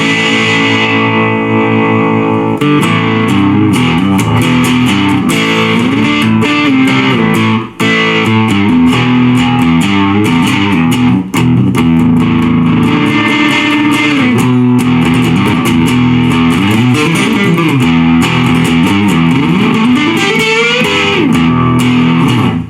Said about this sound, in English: And then you got metal. So it's high gain, high distortion.